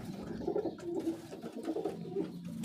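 Pigeons nesting and sitting on their eggs coo softly in repeated low, throaty phrases, close by and continuous, with no talking.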